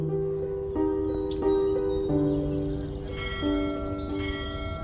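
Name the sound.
temple bells ringing with morning birdsong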